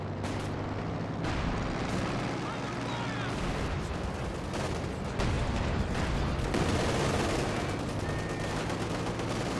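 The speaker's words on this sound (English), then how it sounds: "some sort of artillery being brought in there" Dense, continuous battlefield fire from Company of Heroes 2: heavy booms and cracks of artillery and gunfire overlapping in a dense, loud barrage with no pauses.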